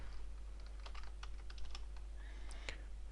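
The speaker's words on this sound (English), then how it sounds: "I try to type in some name like that." A name being typed on a computer keyboard: a quiet, steady patter of key clicks, close and alone, with a few sharper taps toward the end.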